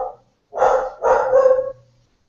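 A dog barking at someone at the door, two loud close barks, the second longer and trailing into a low whine, with silence between.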